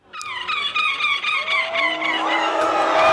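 A person imitates a seagull's cry at a seagull-cry competition, a shrill, wavering, drawn-out squeal that rises in intensity, loud and close.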